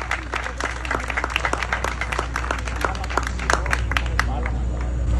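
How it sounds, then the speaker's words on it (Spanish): Audience at a lifetime achievement award ceremony in Montería, Colombia gives strong applause: many distinct hand claps in a lively, sustained burst with crowd murmur beneath. "Un fuerte aplauso, por favor."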